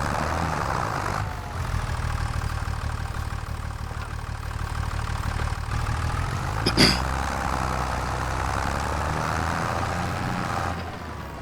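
Tractor engine in a farm simulator game running steadily at a low idle-like drone, continuous and fairly loud throughout, with a brief sharp knock partway through.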